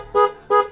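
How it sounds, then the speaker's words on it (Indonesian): Horn of a GL100 motorcycle sounded in a garage test, two short close honks with a brief gap between them. "Untuk klakson ya kita coba dulu untuk klaksonnya."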